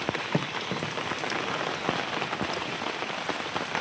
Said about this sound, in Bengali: আজকে বলতে গেলে দিনটি সুন্দর বৃষ্টিময়, বৃষ্টি পড়ছে।